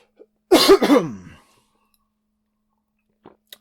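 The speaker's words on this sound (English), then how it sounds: "Excuse me while I clear my throat." A single close throat clearing, a short rough rasping burst, followed by near silence and a faint click.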